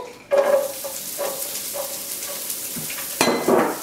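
Whole spices crackle and pop in hot oil in a pan for a curry flavoured with Rajasthan blend and garam masala: a steady close sizzle with scattered small pops and a few utensil clinks near the end.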